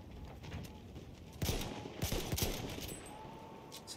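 Several gunshots from a first-person war video game battle at Cape Helles, sharp reports in a short burst around the middle with distant shots and ambient battle noise between them, no talking.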